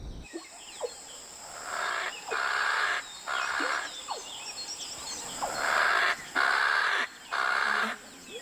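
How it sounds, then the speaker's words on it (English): Harsh, grating francolin calls repeat in rhythmic bursts about once a second, loud and close, with sharp chirps between phrases and no talking. "some singers have very strange registers, like the francolin"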